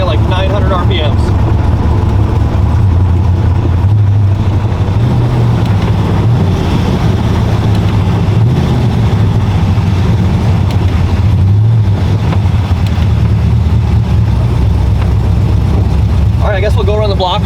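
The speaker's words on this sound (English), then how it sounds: "Already in 8th gear, cruise along at like 900 RPMs." A Chevrolet El Camino with an LS3 V8 and 8HP70 eight-speed automatic cruises in 8th gear at very low revs, a steady low engine drone with road and wind noise throughout while someone talks over it.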